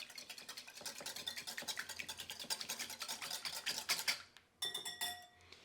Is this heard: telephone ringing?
no